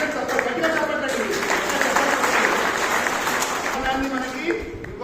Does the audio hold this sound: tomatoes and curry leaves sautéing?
no